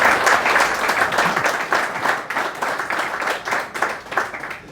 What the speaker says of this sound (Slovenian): No, ta spontan aplavz tudi veliko pove.